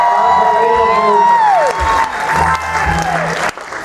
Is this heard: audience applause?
yes